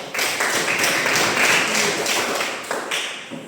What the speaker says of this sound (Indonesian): Tepuk tangan buat Mese